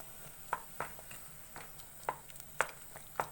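Noodle soup being stirred in a pot after it comes to a boil, giving a handful of sharp utensil taps and scrapes against the pot, close and fairly clear, over a soft bubbling background.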